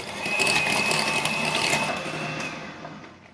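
An electric beater whirs steadily through a yogurt mixture, a continuous buzzing motor drone with a faint whine, close and fairly loud, tapering off at the end.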